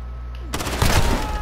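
Gunfire in the video game Call of Duty Modern Warfare: after a quiet half second, a loud burst of rapid in-game shots and impacts rings out, continuing up close for nearly a second.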